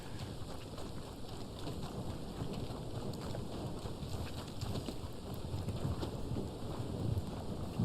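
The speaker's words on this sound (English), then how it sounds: "Randsburg is pretty creepy at night when it rains" Steady rain pours with low rumbling thunder at night in the town of Randsburg in the Red Dead Online video game, a constant wash of noise that slowly swells louder.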